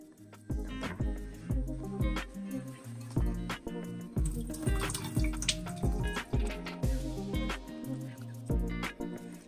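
Leftover vinegar drains from cooked fish, a close run of irregular drips and splashes of liquid with a trickling wet texture, moderately quiet and without voices.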